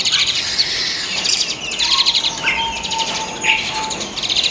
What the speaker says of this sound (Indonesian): Ini jalak suren dewasa